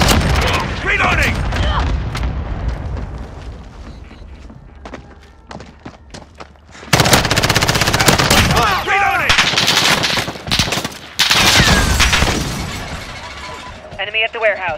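Dense automatic gunfire in the shooter game Call of Duty: Modern Warfare, with loud bursts rattling off, heavy volleys and impacts swelling midway, mixed with game voice callouts and battlefield noise.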